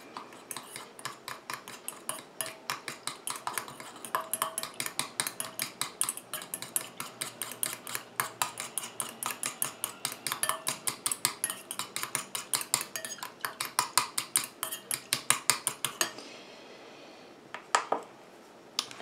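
A utensil stirring a rose and orchid face mist mixture in a container, with rapid rhythmic clinks and scrapes repeating for a long stretch, then slowing to a few last taps near the end; no talking.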